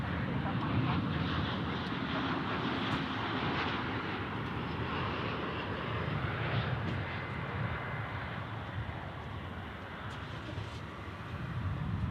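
Boeing 737 MAX 9 jet at DFW airport, a steady, loud, broadband engine roar sustained throughout with wind noise, no clear voices over it.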